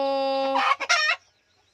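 A backyard hen with her chicks gives a brief drawn-out vocal call followed by a couple of short clucks, close and clear, then falls silent.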